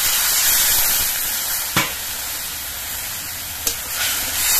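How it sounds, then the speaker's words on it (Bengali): Steady sizzling hiss of water hitting hot spice paste frying in a pan for rohu fish curry, with two brief sharp clicks of a utensil. "একটুখানি জল দিচ্ছি"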